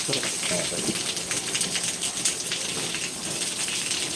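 Steady rain falls at night, a dense continuous hiss of drops with scattered patters and ticks on surfaces, even and unbroken throughout.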